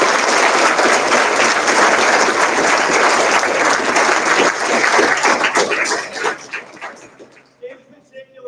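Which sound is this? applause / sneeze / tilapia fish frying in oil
applause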